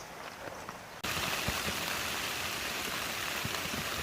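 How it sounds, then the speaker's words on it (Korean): Heavy rain patters steadily on a tent at a campsite, a dense close-up drumming that starts abruptly after a quieter moment and continues evenly. "이렇게 텐트 안에 누워가지고 빗방울이 흘러내리는 모습을 보고 있으니까"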